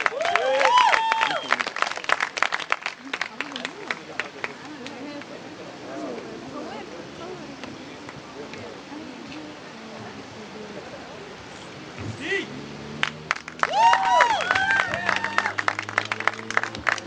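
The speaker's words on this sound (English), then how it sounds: "Please welcome him. Round of applause." Applause and clapping from an audience at a poetry and music event in Khartoum rise and fall over a steady crowd murmur, with voices speaking loudly at the start and near the end.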